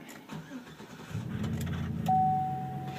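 A 2005 Chevrolet Tahoe Z71 engine with a Flowmaster 50 series muffler cranks and turns over, then settles into a low, steady idle rumble, fairly close.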